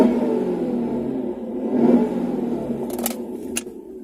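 Supercharged Jaguar 4.0 XKR engine on its standard supercharger pulley, warmed up, revving steadily with a rising and falling drone, close and fairly loud, with a couple of brief sharp bursts near the end.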